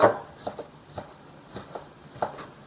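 A knife chops beef on a cutting board in about nine separate sharp taps, irregularly spaced and close, with quiet gaps between strokes.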